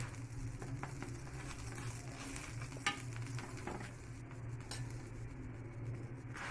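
Stuffed mixed-vegetable paratha roasting in desi ghee on a pan, with a low steady sizzle and occasional scrapes and pressing sounds, one sharper tap near the middle, no talking.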